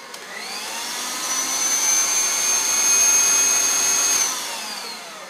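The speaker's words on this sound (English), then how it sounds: "Once there's no more like dry flour, you can turn your mixer up so that it can become a little bit smoother." An electric mixer runs steadily while mixing soft pretzel dough, giving a continuous motor whine with a high tone that holds for about four seconds and then winds down, fairly loud and close, with no talking.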